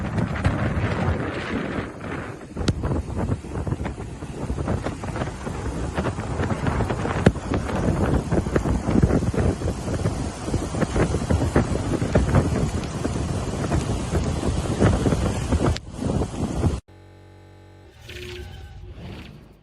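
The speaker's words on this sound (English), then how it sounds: "storm surge rolling right in" Hurricane Melissa storm surge rolling onto a Jamaica beach, with loud, constant roaring wind and heavy wind buffeting on the microphone over crashing surf for most of the clip, then cutting to a quieter stretch at the end.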